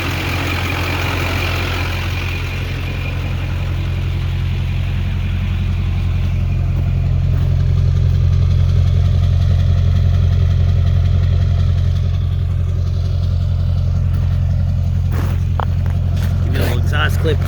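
A Duramax LB7 diesel pickup with ported heads, 45-over injectors and an upgraded turbo idles with a deep, steady exhaust rumble close by, joined by faint clatter and a few brief knocks near the end.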